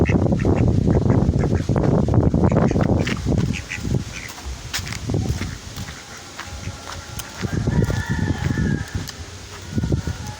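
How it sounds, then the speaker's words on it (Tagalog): Ducks quacking outdoors near a river, a run of harsh calls close by with other farm animal and bird sounds mixed in. "Itik."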